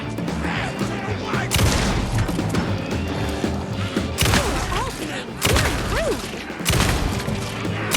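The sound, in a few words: gunfire in the video game Alan Wake 2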